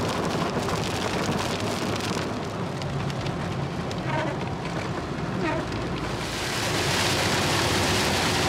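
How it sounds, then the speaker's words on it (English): A heavy rainstorm in Corrientes, Argentina, a loud dense roar of downpour with continuous broadband hiss and rumble that swells slightly toward the end, steady and enveloping with no talking. "The region of Corrientes in Argentina was getting massive storms non-stop"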